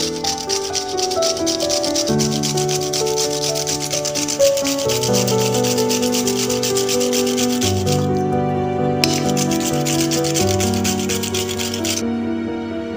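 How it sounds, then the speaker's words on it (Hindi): Peeled cucumber rubbed steadily against a metal kitchen grater for thalipeeth, a continuous rasping scrape in even strokes, close and fairly loud, with soft background music underneath. "अब हमें इसका छिलका निकालकर इसे कद्दूकस कर लेना है"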